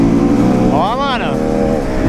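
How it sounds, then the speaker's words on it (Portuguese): A Honda CB300R motorcycle with its air filter removed revs high, the engine pitch sweeping sharply up and back down in a loud, close whine. "O giro sobe muito mais rápido"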